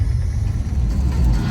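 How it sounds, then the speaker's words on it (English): A car engine hums steadily from inside the cabin during an hour-long commute to work, with a low, even rumble that continues without a break. "So I'm in the car driving to work"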